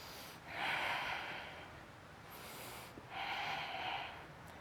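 Two long audible breaths taken during a yoga session, each a soft, airy rush lasting over a second, separated by a quieter pause, close and alone with no talk.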